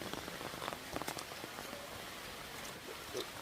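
Rain falls steadily on a rainy morning, a soft, faint patter with scattered nearby drips and drops striking surfaces.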